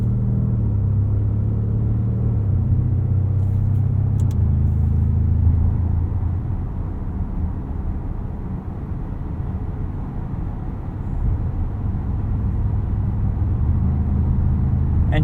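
A 2024 Porsche Cayenne Turbo E-Hybrid Coupe drives in hybrid mode, its engine cutting on and off seamlessly, giving a steady low rumble of road and drivetrain noise heard from inside the cabin with no talk.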